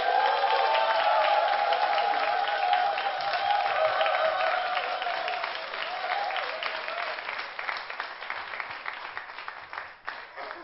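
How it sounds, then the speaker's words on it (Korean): Church congregation applauding to welcome the pastor, a full room of sustained clapping with a few cheers that tapers off toward the end while a voice speaks over it. "목사님 나오실 때 한국교회가 어떻게 열정적이라는 걸 박수로 환영합니다"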